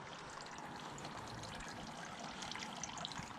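Water trickling steadily from a backyard fountain at night, a continuous soft splashing wash that stays even and fairly faint throughout, with a few slightly louder drips near the end.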